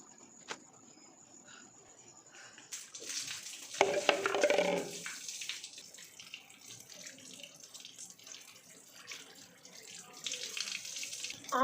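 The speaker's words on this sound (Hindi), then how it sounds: "ये कुछ पैंटीज़ हैं ये मैं धो लूँ" Underwear being hand-washed in water, with sloshing, splashing and rubbing that swell into a louder burst before settling into steady, close washing sounds.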